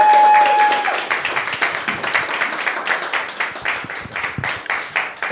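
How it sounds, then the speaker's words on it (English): A small open-mic stand-up comedy audience applauds a comedian with a steady burst of close, sparse hand claps lasting several seconds. "Everyone give a loud round of applause for George Tarabai!"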